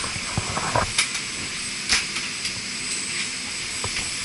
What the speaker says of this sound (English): So right now we just boarded the plane.